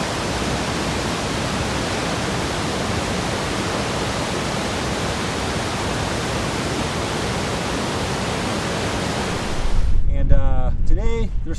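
Waterfall at Wapama Falls in Yosemite's Hetch Hetchy, running at low winter flow, gives a steady, dense roar of rushing water, close and constant, until a voice begins speaking near the end.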